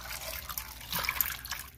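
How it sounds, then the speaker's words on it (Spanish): A cup of water poured into a pot of sweet potato preserve with cinnamon, a soft, close, continuous splashing trickle for a couple of seconds with no talking. "Le voy a poner una taza de agua."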